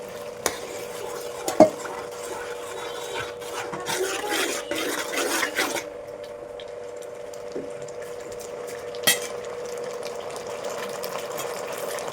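A soya chunk manchurian mixture simmers and fries in a pan with a faint bubbling hiss, punctuated by occasional knocks and scraping of a stirring spoon against the metal.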